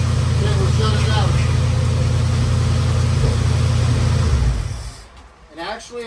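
A 1972 Dodge Charger's engine runs loud and steady at a close, rough idle, then cuts off near the end, leaving quieter sounds and voices.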